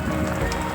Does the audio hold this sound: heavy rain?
yes